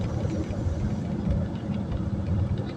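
An old Yamaha motorcycle engine runs steadily at close range, giving a continuous low, rumbling idle throughout with no distinct revving.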